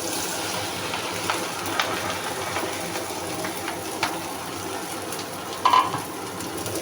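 Basanti polau rice tossed with turmeric sizzles steadily in a hot pan, a dense, even frying hiss with a few soft clinks and scrapes of stirring near the end.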